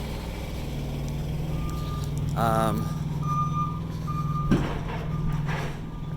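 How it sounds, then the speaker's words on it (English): A truck's auxiliary power unit drones steadily at a low pitch throughout, with a reversing beep and faint background noises layered over it. "My APU is running. You can probably hear it."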